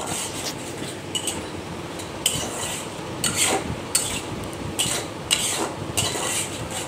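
Spice masala being stirred and cooked in a pan, with repeated scraping strokes of a utensil against the metal over a low, continuous sizzle, fairly close and loud, no voices.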